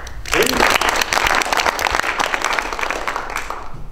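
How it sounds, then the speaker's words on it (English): Loud applause from an audience at a Dawson County Tea Party gathering, a dense burst of clapping that starts abruptly and holds steady for several seconds before easing slightly. "I want everybody in here to give yourself a hand clap of praise"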